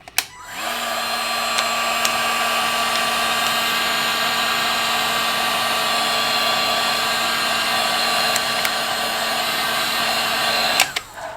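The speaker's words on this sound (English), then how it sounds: "I always keep a finger kind of in line of the heat gun or the hairdryer" A heat gun warms vinyl wrap on a Polestar 2 centre console, a loud steady blowing whine that starts abruptly, holds for about ten seconds and then cuts off.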